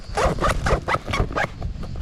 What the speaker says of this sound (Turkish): Fermuarlara bakalım. YKK fermuarlar kullanılmış.